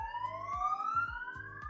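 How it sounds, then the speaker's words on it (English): A wailing siren rises steadily in pitch, sounding from a distance outdoors, with a few dull thumps in the background. "I've got the sirens going outside."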